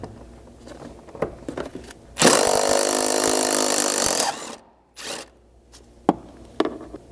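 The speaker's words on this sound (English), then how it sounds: "using your 14mm, we're going to remove this seatbelt mounting bolt" Ratcheting wrench work on a seatbelt mounting bolt, a 14mm wrench turning it out, heard as a loud sustained rasping burst of about two seconds followed by a short second burst and a few scattered clicks and knocks.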